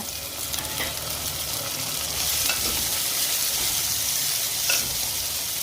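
Tomatoes with curry leaves and coriander sauté in a clay pot for home-style fish curry, a steady soft sizzle with scraping stirs throughout, no voices.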